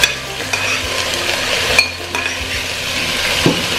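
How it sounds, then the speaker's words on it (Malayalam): Rice being stirred into fried cinnamon, cardamom and cloves for Kannur mutton biryani, a close sizzle under repeated scraping and clinking of a spoon against the pan. "ചെറുതായിട്ട് ഒന്ന് ഇളക്കി കൊടുക്കാം, അധികം ചട്ടി ഊറ്റി ഇളക്കരുത്"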